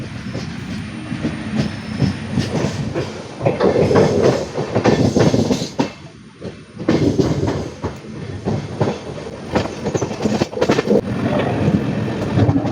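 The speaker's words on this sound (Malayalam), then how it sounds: "ട്രെയിൻ കരുനാഗപ്പള്ളിയിൽ നിർത്തിയതിന് ശേഷം വീണ്ടും കരുനാഗപ്പള്ളിയിൽ നിന്ന് പുറപ്പെട്ടിരിക്കുകയാണ്." A train pulls away from Karunagappally station, heard from inside a general coach: steady, loud rumbling clatter of wheels on rails with rhythmic clicks and carriage rattle, and no voices.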